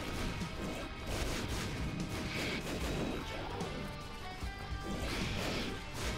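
Bombs going off in The Binding of Isaac: Afterbirth+, a dense run of crashing blasts and thuds spread across several seconds over a constant busy game mix, with no talk.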